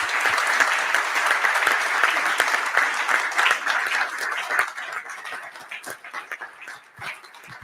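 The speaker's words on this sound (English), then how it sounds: "please join me in a round of applause for everybody for all the finalists" Audience applause for forum finalists at the closing of the Sintra forum, a dense, steady clapping from a large crowd that thins and grows sparser toward the end.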